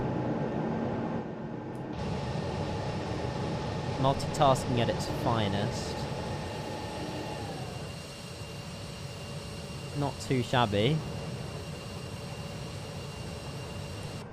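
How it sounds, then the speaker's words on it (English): Embraer E175 jet engines in a flight simulator, heard in flight as a steady, fairly quiet cabin whine and hum with tonal lines, under someone talking at intervals. "Quite a quiet aircraft, isn't it? The engines aren't very loud at all."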